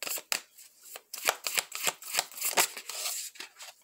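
Oracle cards are shuffled by hand nearby in a run of quick, crisp riffling and slapping bursts at an uneven rhythm, fairly soft, with no talking.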